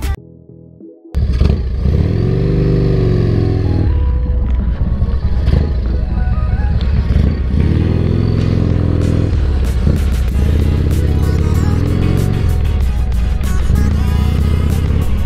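A Harley-Davidson Dyna motorcycle starts off after a short quiet moment, its engine note jumping loud and steady, then riding on with rising and falling revs through gear changes in Los Angeles, close to the microphone.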